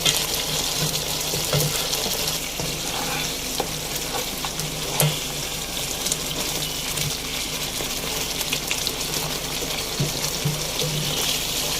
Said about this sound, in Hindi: देखिए यहाँ पे ये भुनना शुरू हो गया, और ऑयल भी हमारा अलग होना शुरू हो गया